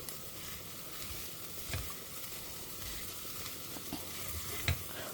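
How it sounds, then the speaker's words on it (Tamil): Peas and beans sauté in a pot for a peas and paneer pulao, giving a steady, even sizzle with a couple of brief scraping stirs near the start and the end. "இப்போ பட்டாணி, அதுக்கப்புறமா பீன்ஸ், இது 3 கொஞ்சம் வதங்கட்டும்."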